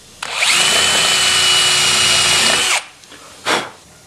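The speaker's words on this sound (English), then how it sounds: "Hit it with the countersink." A power drill spins a countersink bit into a pre-drilled hole for a number 8 screw during an off-grid electrical install in a truck camper, whining loudly and steadily for about two and a half seconds, then stopping, followed by a brief second burst.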